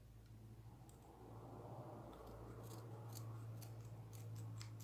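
Scissors snip yarn after crocheting a granny shawl, giving a few faint, sharp clicks close by over a low steady hum, with no talking.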